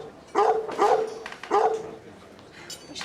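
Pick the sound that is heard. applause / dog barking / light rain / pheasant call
dog barking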